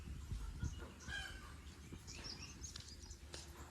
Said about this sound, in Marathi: कोंबड्यांचा आवाज पण येते